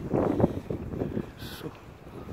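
Cold, strong wind in Copenhagen buffets the microphone in a steady low rumbling roar, with a brief faint hiss partway through.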